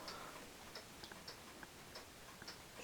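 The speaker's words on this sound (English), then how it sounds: "So thank you for listening to my clocks" Several chiming wall clocks with anvil-striking automaton figures tick steadily at close range, a quiet, even tick-tock pattern over faint room hiss with no voices.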